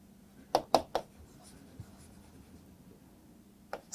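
A pen writing on paper while a teacher notes biology lesson points, giving three quick close scratchy strokes early on and one more near the end, over a quiet room.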